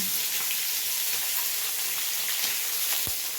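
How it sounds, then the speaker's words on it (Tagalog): Seashells simmer in coconut milk in a pot with salt, giving a steady, dense bubbling sizzle that stays even and close throughout, with one soft low knock near the end. "Pakuluan muna natin."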